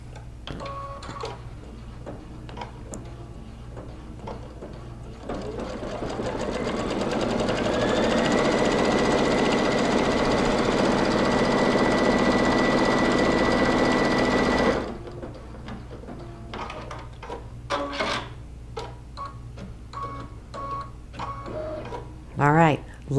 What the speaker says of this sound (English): got another striped piece lined up and I'm ready to sew